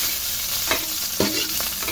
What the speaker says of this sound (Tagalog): Ano guys, magigisa na tayo ng ating karne.